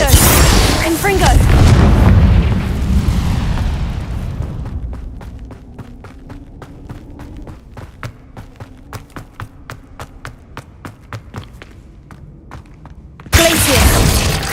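A Confringo explosion spell in a Harry Potter video game bursts out loud and broad at the start, then fades into a run of rapid ticking clicks before another sharp blast hits at the very end.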